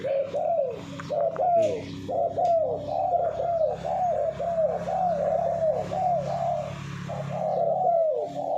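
A trained bird calls repeatedly in a steady series of cooing, dove-like notes, close and clear over a low background hum, with no talk.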